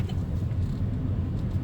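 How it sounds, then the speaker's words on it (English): Steady low road rumble and tire noise inside a 2015 Chevy Spark EV electric car driving at highway speed between Paragould and Trumann, Arkansas, with no engine note and no speech. "just to show that yes, this car can go highway speeds"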